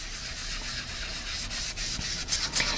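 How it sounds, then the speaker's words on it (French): Soft, steady rubbing of ink being dabbed onto card-making paper in small circular movements, a close, quiet scratchy texture with slight rhythmic pulses. "en faisant des petits mouvements circulaires, on va apporter la couleur sur notre papier"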